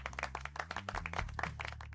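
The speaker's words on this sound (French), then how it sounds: "Veuillez l'applaudir." A room full of people applauding, steady dense clapping throughout with a low musical tone sustained underneath.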